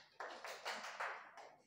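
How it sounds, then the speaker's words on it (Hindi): Classroom students give a short burst of clapping, a handful of faint, uneven claps over under two seconds. "ताली इनके लिए बजा दीजिए एक।"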